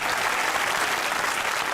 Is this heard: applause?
yes